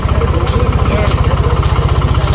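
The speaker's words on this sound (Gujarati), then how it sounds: "સરસ મજાનું ટ્રેક્ટર છે જો પાવડાવાળું ટ્રેક્ટર છે" A tractor fitted with a front loader shovel runs at an agricultural fair. Its engine holds a steady, throbbing idle, loud and near, with an even low pulse throughout.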